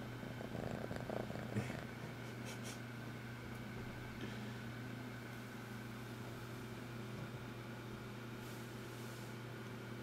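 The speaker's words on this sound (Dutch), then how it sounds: "Ja, daar is ook een poesje." A cat purrs softly and continuously, faint and close, with a steady low rumble lasting throughout and no voices.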